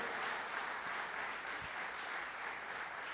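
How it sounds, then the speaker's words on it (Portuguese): A church congregation applauds during a worship service, a steady, fairly faint and distant wash of clapping lasting a few seconds without distinct individual claps. "Você pode dar um forte aplauso ao Senhor?"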